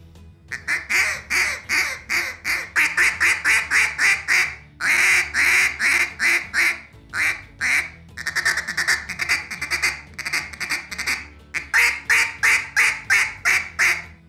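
Rapid runs of loud, nasal quacks blown on a duck call, the Flight Control, imitating a duck, with several bursts of fast repeated notes separated by short pauses, close and clear with no talk.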